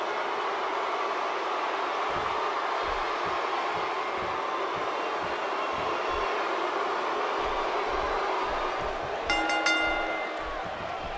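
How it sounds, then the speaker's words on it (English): A video game wrestling arena crowd from WWE 2K17 sends up a steady, dense roar of cheering that fills the whole scene, with a brief bell-like ring near the end. "Wow, this amazing crowd is in for one hell of a match."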